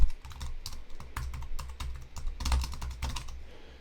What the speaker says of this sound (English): so I can type